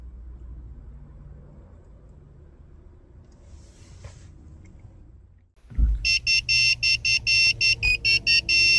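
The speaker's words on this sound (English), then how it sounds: "After 10 minutes, you'll hear a beeping tone, which means that the key chip programming was successful." Ford Edge key programming tool giving a steady series of sharp, loud electronic beeps in an even rhythm, inside the vehicle after a quiet hum.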